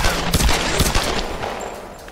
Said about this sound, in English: I, like, missed the first 5 shots, but at least I hit him in the end.